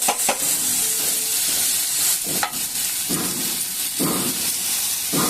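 Bitter gourd and potato pieces fry in a pan, giving a steady, loud sizzle and hiss throughout. Several scraping stirs cut through the frying at intervals.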